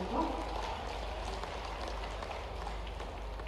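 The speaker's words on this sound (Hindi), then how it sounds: "जोरदार तालियां होनी चाहिए।" Dense, steady applause from a large crowd at an outdoor public ceremony in Bahraich, India, where the Prime Minister lays foundation stones for the Maharaja Suheldev memorial and Chittaura lake development. It rolls on evenly, with faint voices mixed in.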